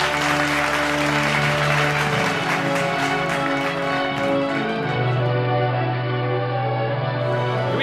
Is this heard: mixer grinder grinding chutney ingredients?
no